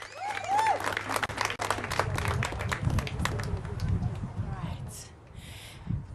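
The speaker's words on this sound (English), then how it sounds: "can we, for the last time, give this entire event a huge round of applause" Applause from an audience at a South African Striding Men Rally event during the 16 days of activism, dense clapping mixed with crowd noise and some talk, steady throughout, then thinning near the end.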